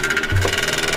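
A scooter engine runs close by at the MX Godzięba motocross track in Poland, with a steady, rhythmic pulsing buzz, like a small motor idling.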